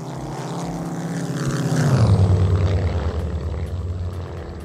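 A World War II era P-51D propeller fighter plane approaches with a loud, rising engine drone. The pitch drops sharply as it passes overhead, then its steady roar continues moving away.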